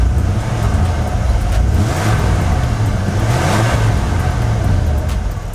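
An old truck's engine, sat unused for about ten years and carrying a slight valve tick, runs close by with a rough, high idle and rises and falls through a couple of revs, with no speech.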